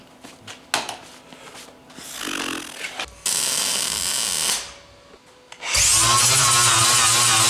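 A pinhole in the metal of a plasma cutting water table is ground out. Loud bursts of power-tool grinding start and stop with short gaps and end in a long, strong run, with no speech.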